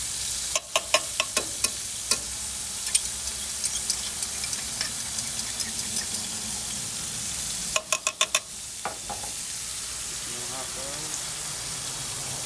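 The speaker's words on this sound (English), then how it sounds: "Throw them on the grill" Hot dogs sizzle on a grill with butter, a steady crackling hiss broken by sharp pops and a few quick metallic clicks near the start and again after the halfway point.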